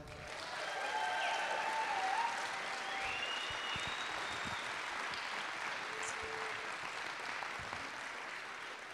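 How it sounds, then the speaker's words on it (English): Steady applause from the audience at a school variety night, a dense wash of clapping that holds at an even level for several seconds, with faint voices and a whistle or two in the crowd. "All right, can we get another round of applause?"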